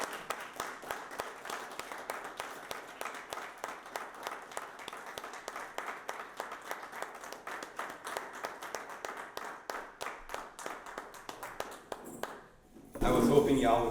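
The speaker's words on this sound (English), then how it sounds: "I was hoping y'all would keep clapping" An audience greets a lecturer with applause, a dense run of claps that rises, holds steady, then thins and fades out before a voice starts speaking.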